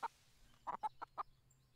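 A chicken in the farming video game Everdream Valley gives a short series of five quick clucks, one then a rapid run of four, faint and alone over a low game background.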